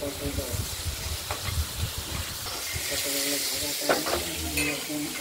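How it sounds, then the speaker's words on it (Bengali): Farmed prawns fry in a pan, a close, constant sizzle mixed with the scrape and clatter of stirring, with a voice faintly audible underneath. "চিংড়ি মাছগুলো আমরা ভেজে নিচ্ছি, দেখতে থাকুন"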